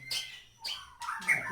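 Young F3 white-rumped shamas (murai batu) at a bird farm give three short, bright chirping bursts with brief pauses between them, fairly close and moderately loud, with no talking.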